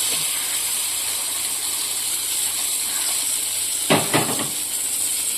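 Whole spices and dried red chillies crackle in hot oil as tempering for a fruit-chilli yogurt chutney, a steady close hiss with a couple of sharper spits toward the end, no voices.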